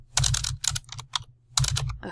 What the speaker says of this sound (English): My typing's not very good.